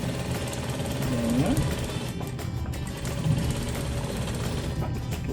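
A sewing machine runs steadily, stitching a seam along a grey quilt strip with a continuous mechanical whir, while someone speaks briefly over it.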